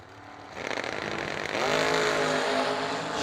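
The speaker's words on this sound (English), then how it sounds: "Now she's racing his car." A grandpa's hot rod races at a drag strip, its engine roaring up loudly and steadily from a lower idle into a sustained high rev with a rising whine.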